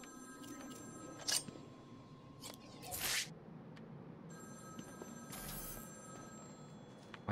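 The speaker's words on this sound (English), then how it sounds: "Oh, and there's a phone ringing." A telephone rings in the Batman: Arkham City game with repeated bursts of electronic bell tones, faint and somewhat distant against low background ambience, in uneven pulses with gaps between them.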